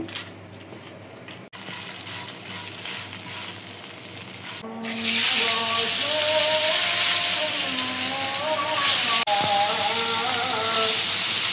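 Hilsa fish fries in a pan for a Kajir Vat meal, a quiet start giving way to a steady, loud sizzle of hot oil that holds until the end.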